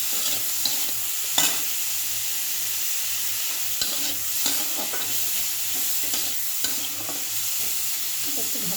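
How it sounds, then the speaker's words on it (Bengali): Leafy greens cooking with shrimp in a pan, salted, with a constant soft sizzle and repeated scraping stirs close by, with no talking. "একটু ভাজা ভাজা হোক।"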